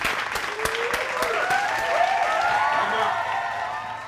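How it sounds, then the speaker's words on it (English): Studio audience applause at a comedy talk show, a steady wash of clapping with some sharp individual claps, holding at a fairly even level for about four seconds while faint voices drift over it. "give a round of applause for Mr."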